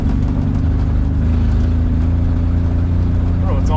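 A 1960 Ford Ranch Wagon spins both rear wheels in a two-wheel peel, its engine roaring loud and close in a strained, steady drone with tire noise layered over it.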